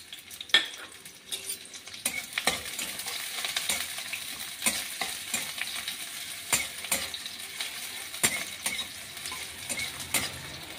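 Dried red chillies and onion frying in hot oil in a kadai, a steady close crackling sizzle broken by repeated sharp clicks and scrapes of a spatula stirring against the metal.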